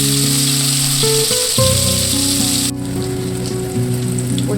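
Paneer cubes frying in oil in a pan, a loud dense sizzle like heavy rain that runs the whole time, under steady background music.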